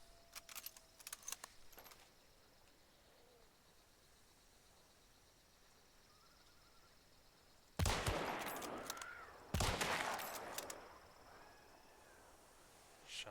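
Vetterli rifle fire in a shooting video game: two loud, sharp shots a couple of seconds apart ring out with echoing tails over a quiet background, after a few faint clicks near the start.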